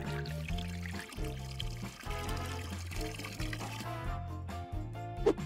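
Water for a fruit gelatin dessert is poured, a soft trickle heard faintly beneath background music for several seconds.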